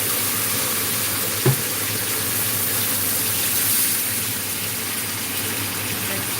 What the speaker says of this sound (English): Let's put a little water.